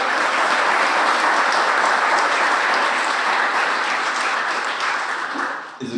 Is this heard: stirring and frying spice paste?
no